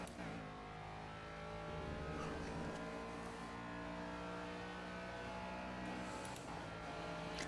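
A Ginetta G40 race car engine in the video game Project Cars at Catalunya National drones steadily at high revs, a continuous layered harmonic whine with slight pitch shifts and occasional tire noise, no talk.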